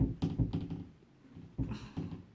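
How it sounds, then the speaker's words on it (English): Cats bat at and push through a newly installed cat door indoors, giving a few soft knocks and thunks in two short bursts separated by a quieter pause. "So we put a cat door in, and they're playing with it and figuring it out."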